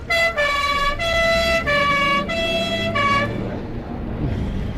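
An ambulance siren in a radio drama wails in repeated two-tone bursts, loud and close, then fades away as the vehicle pulls off.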